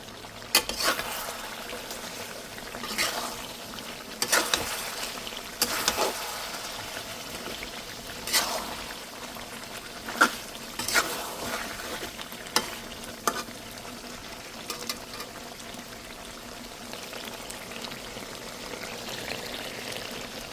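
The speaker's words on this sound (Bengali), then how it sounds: "এবার আমি আলু দিয়ে দেবো এর ভিতরে" Braised meat in a pot with potatoes being added, stirred with scattered scrapes and clunks over a steady low sizzle that runs throughout, no voices.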